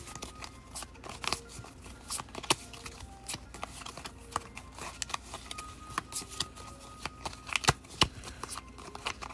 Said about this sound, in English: Really hard to shuffle just a handful of cards.